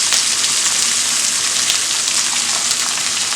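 Chopped onion sautés in hot oil with curry leaves for an ivy gourd fry, giving an even, dense, close sizzling hiss throughout, with no voices.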